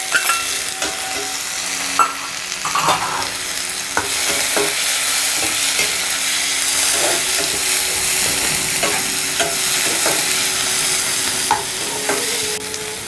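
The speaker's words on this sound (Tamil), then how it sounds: "பூண்டு கொஞ்சம் செவக்க வெந்ததும் அடுத்தது தக்காளியை போட்டுக்கணும்." Garlic and tomato frying in a pan for a vegetable stir-fry, with a steady close sizzle broken by repeated scraping and clacking of a spoon stirring the pan.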